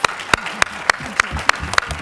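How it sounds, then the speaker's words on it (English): A brief burst of applause at a Q&A with the California State Board at Face & Body: sharp, regular claps from nearby hands over a thinner crowd, with a voice talking underneath. "Let's give the board and Dee Dee a huge round of applause."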